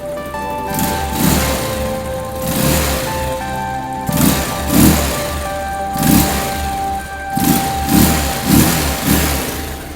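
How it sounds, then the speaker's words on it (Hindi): A Bajaj Pulsar 220 motorcycle with a modified exhaust, loud and close, idles with a steady rumble and is blipped through repeated revs in rhythmic pulses. "आप थोड़ा सा बाइक का निकल लीजिएगा, आपको देखेंगे कि अच्छी वो आवाज़ दे रही है"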